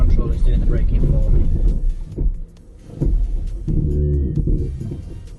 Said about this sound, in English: I've now released the brake, and the hill descent control is doing the braking for